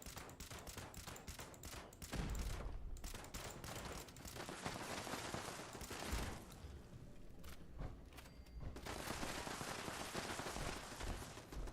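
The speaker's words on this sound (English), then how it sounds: "Things are shooting at me." Gunfire in Fallout 76 around Watoga City: dense, rapid bursts of shots crackle almost continuously, with brief lulls, heavier thumps and a constant, busy battle texture.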